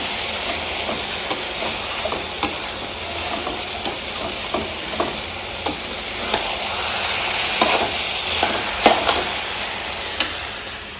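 Bottle gourd (lau) cooks in a pan with a steady, loud hissing sizzle and steam, broken by periodic sharp clicks and scrapes of a spoon stirring against the metal.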